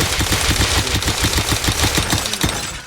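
Rapid, continuous automatic gunfire in the video game Rust rattles loudly in a steady stream of shots, with no talking.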